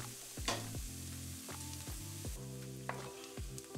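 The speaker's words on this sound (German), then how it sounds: "Gebt anschließend die gehackten Zwiebeln dazu und lasst sie braten." Chopped onions fry in hot ghee already fragrant with cardamom and cassia, giving a steady close sizzle broken by a few sharp stirring scrapes and pops.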